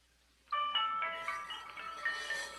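A phone rings with an incoming call, a bright multi-tone electronic ringtone that starts abruptly and keeps going steadily, loud and close, with no talk over it.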